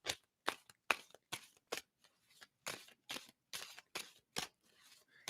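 Tarot cards are shuffled by hand up close, giving a run of quick papery riffles and taps in an uneven rhythm, fairly quiet, with no talking.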